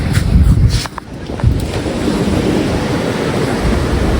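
Wind rushes against the microphone on a beach at Diu, with waves washing ashore in a steady roar, loud and close for a few seconds.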